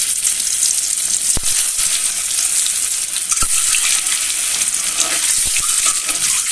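Eggs frying in hot oil for a soybean and potato curry give a loud, steady sizzle with scattered sharp crackles throughout, and no voices.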